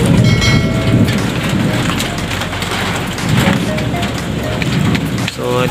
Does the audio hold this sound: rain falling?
yes